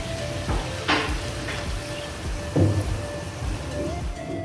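Halved chicken pies frying in a pan, a steady low sizzle with occasional stirring and turning clatters, moderately close and without talk.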